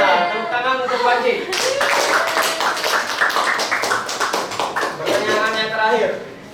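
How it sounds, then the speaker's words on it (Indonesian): A class applauding a student, many hands clapping in a dense burst that starts abruptly and carries on for several seconds, with a voice speaking before and after. "Tepuk tangan untuk Panji."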